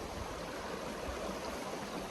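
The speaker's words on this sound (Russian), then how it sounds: "Вот тут у меня ручей." A small stream beside the Kolyma highway in Yakutia gives a steady, soft rushing wash of water, unbroken and fairly faint, with no voices.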